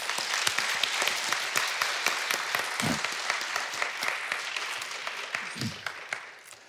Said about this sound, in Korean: 우리 감사하고 격려하는 마음으로 박수